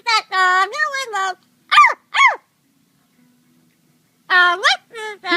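A parrot imitates a dog, giving a few short harmonic barks and yips in bursts with a silent gap between them, close and fairly loud.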